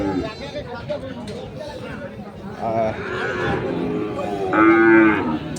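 Sahiwal breed calves moo loudly and repeatedly at the crowded Ambari cattle market in Dinajpur, their long calls rising over the steady chatter of buyers and sellers.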